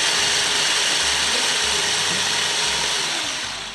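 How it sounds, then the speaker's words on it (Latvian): A standard kitchen blender grinds a whole packet of Selga biscuits into fine powder, giving a steady loud mechanical whir with rattling, ratchety crunching that holds throughout and fades slightly at the end. "Es ņemu parasto blenderi un visu paciņu selgas cepumus metam iekšā."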